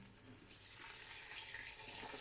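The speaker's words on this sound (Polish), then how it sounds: "Teraz wlewam sobie około 2 litry przefiltrowanej wody." About two litres of filtered water pour into a pot of goulash soup with meat and fried vegetables, a steady close-up splashing rush that stays fairly even throughout.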